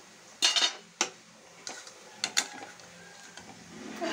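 Carrot halwa being stirred in a pan, with a few sharp clinks and scrapes of a utensil against the metal, spaced irregularly over a quiet background.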